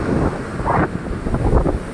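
Strong wind buffeting the microphone with waves surging at Marina beach after heavy rain, a dense, gusty rumble that stays loud throughout.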